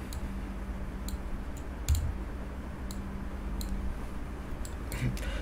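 Computer mouse clicks while a Corona project is set up, a few sharp, faint clicks spread through the stretch over a low steady hum and room noise, with no talk.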